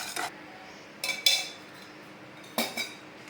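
Metal cooking pots and vessels clink and clatter in three short bursts while pans are switched after dry-roasting black urad dal, with quiet pauses between knocks.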